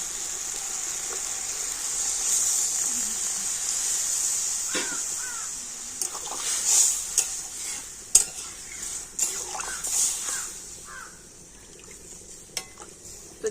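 Water goes into a pan of sautéed ingredients with a steady hiss, followed by close stirring scrapes and light clinks of a metal utensil against the pan. Crows caw faintly in the background.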